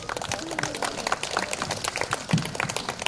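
An outdoor audience at the Masan Chrysanthemum Festival applauds, a brief burst of scattered, crisp hand claps at moderate distance.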